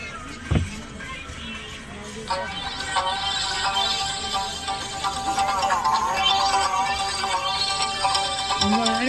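An iPhone ringtone plays loudly and continuously as a steady melodic run of sustained tones, lasting about nine seconds, after a brief thump near the start.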